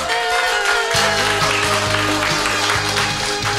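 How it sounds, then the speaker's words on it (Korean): Steady, loud applause from an audience at a year-end party, a dense wash of clapping that continues throughout, with a musical tone or drone layered underneath. "다 같이 뜨거운 박수 부탁드립니다."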